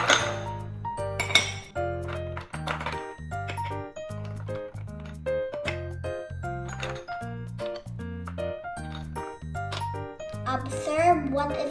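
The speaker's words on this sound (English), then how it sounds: "let's put the ice cubes on the plate" Ice cubes clink and tap against a plate set on top of a jar of warm water, a run of bright glassy knocks while a person talks throughout.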